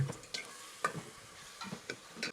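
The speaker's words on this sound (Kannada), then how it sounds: "ಜಿಂಜರು ಗಾರ್ಲಿಕ್ ಪೇಸ್ಟ್ ಹಾಕ್ಬಿಟ್ಟು ಚೆನ್ನಾಗಿ ಮಿಕ್ಸ್ ಮಾಡ್ಕೋಬೇಕು. ಅದು ಕೂಡ ಲೋ ಫ್ಲೇಮಲ್ಲೇ." Onions and ginger garlic paste are stirred in a pan over a low flame, with a soft sizzle and scattered scraping clicks from the spoon.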